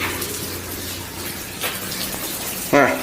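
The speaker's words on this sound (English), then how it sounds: "Where's all this water coming from?" Water runs and splashes steadily inside a tunnel, a constant echoing rush with a louder splash or bird-like chirp near the end, faint background murmur.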